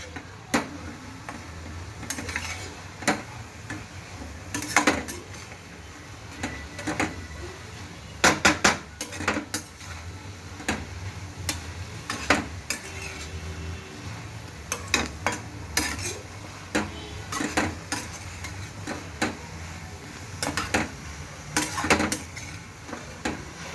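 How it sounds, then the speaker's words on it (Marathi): Vegetables sautéing in a pan over a high gas flame, with a steady low sizzle broken by frequent sharp clicks and knocks of a utensil stirring against the pan, close and fairly loud throughout. "गॅसची फ्लेम मोठीच ठेवायची आहे, जेणेकरून ते लवकर परतलं जाईल"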